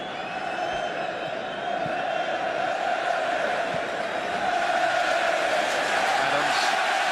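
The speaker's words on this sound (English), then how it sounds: "The crowd are loving it too." Football stadium crowd at Euro 96, England v Holland, a steady distant roar of cheering and chanting filling the whole stretch, swelling slightly toward the end with no clear talk over it.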